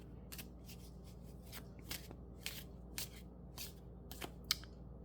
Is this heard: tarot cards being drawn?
yes